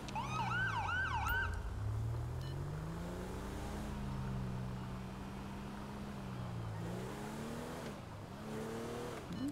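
Whelen Epsilon police siren in GTA V LSPDFR, a rapid warbling yelp at the start, then a slower wailing sweep that rises and falls continuously, loud and steady over engine and traffic noise.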